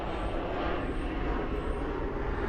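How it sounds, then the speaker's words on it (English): Constant roar of fixed-wing planes passing overhead close to an airport, a dense, loud engine rumble sustained evenly throughout with no voices. "Excuse the planes."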